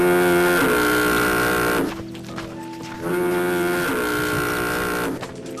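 A waterfront foghorn sound effect from a radio drama sounds two long, loud, steady blasts, separated by a brief near-silent gap, with no voices over it.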